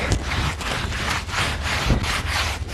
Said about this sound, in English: the other sandpaper, which is the 220. I'm going to run that across there